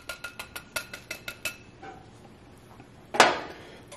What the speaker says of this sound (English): you wanna take your egg mixture, just stir it up because the cinnamon is at the bottom